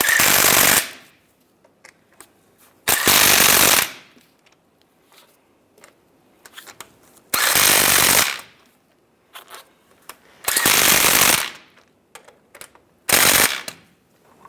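A power tool tightens the bolts on a 2007-2013 Chevrolet Silverado driver's side differential bracket in five loud, close ratcheting bursts of about a second each. Quiet gaps with small clinks separate the bursts.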